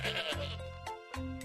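Goat bleat sound effect from a party video game: a few loud, wavering bleats in quick succession, up close and with no talking over them.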